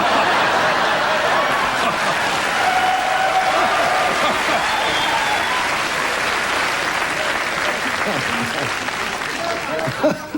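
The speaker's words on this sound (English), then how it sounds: "Thank you for that applause." A television studio audience claps steadily and loudly throughout, a dense continuous wash of applause with faint voices and laughter mixed underneath.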